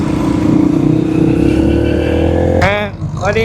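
Motorcycle fitted with a replacement muffler riding along, a loud steady engine drone close by that drops off near the end, where a voice cuts in over it.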